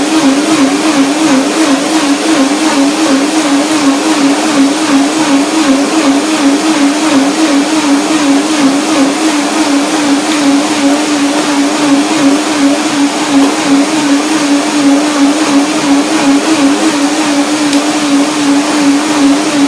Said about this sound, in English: and well, now blender dance